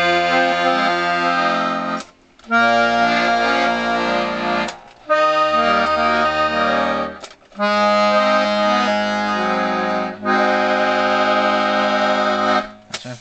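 The bass side of a restored 1930s Pancotti accordion plays sustained, loud chords in five long held blocks. Short gaps separate the blocks where the bellows change direction.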